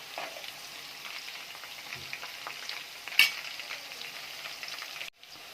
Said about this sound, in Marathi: मिरच्या अशा तळून व्यवस्थित झाले आहे, अशा व्यवस्थित तळून घ्यायचं आहे।